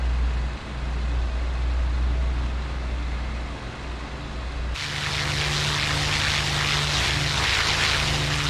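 Twin engines of a Mosquito aircraft in the DCS flight simulator, a loud steady propeller drone that shifts abruptly to a harsher, brighter roar partway through as the RPMs change, with no talk.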